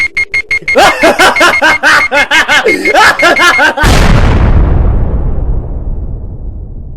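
A bomb in the Tonka Construction video game goes off after a run of rapid electronic beeps and chirping tones. A loud broadband blast follows and trails off into a long fading rumble.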